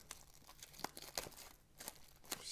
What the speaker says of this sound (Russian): Давайте скорее открывать коробоньку.